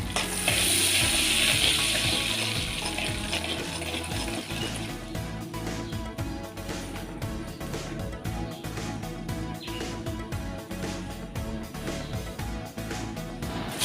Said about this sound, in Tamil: ஆயில் ஹீட் ஆனதும் 1 இன்ச் சின்னமன், 2 ஏலக்காய், 2 கிராம்பு சேர்த்துக்கலாம்.